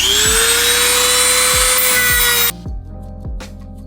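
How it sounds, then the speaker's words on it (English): A loud, high whining sanding bar grinds metal on a Volvo Penta SX-M stern drive prop shaft, runs steadily, then stops abruptly. Repeated low thumps continue underneath, followed by quieter rubbing scrapes. "this cuts metal. It grinds metal."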